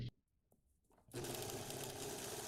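An overlock machine finishes the raw edge of a pocket on a child's shirt, running steadily and close after a second of near silence, with a dense whirring stitch that holds level to the end.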